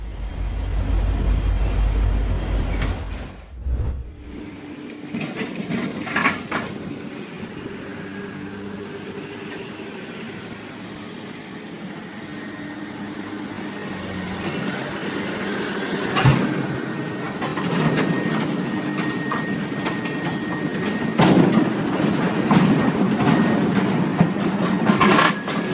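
A train runs through a level crossing near a car, opening with a deep rumble that cuts off, then a long stretch of rolling carriages with intermittent clanks and metallic squeals building toward the end.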